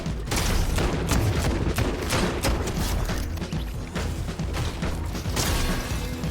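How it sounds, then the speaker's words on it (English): Rapid pistol gunfire from the Mr. Blasty weapon in the video game Fortnite, a dense, steady burst of sharp shots crackling continuously for several seconds alongside mechanical clatter, loud and close with no talking. "we absolutely shredded that guy with the Mr. Blasty pistol"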